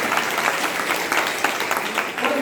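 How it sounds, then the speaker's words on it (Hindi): An audience at a Bhagavat Katha sermon breaks into applause, a dense and continuous wash of many hands clapping at a steady, fairly loud level with no talk over it. "अपने सौभाग्य के लिए ताली बजाएं"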